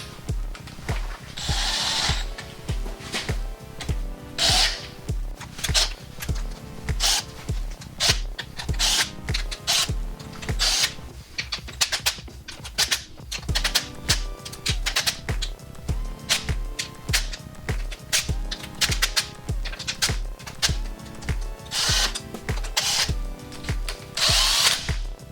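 An impact driver runs up tightening the valve cover screws on a Mazda Miata, giving repeated bursts of rapid hammering rattle that start, stop and restart throughout, close and fairly loud over a quiet garage.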